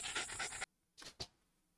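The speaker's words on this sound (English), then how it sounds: "I hear a little doggy breathing." A dog pants in a horror video game: a quick run of loud, rhythmic breaths, then a pause and two more separate huffs close by.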